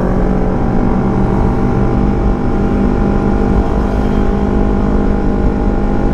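Loud, continuous motorcycle engine and exhaust roar recorded while riding on a Sunday group ride, a steady rumbling drone with wind buffeting and no talking.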